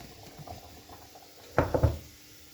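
Horse gram curry bubbles quietly in a pot on a Kerala kitchen stove, a soft low simmer that swells into a short cluster of louder splashing bursts near the end.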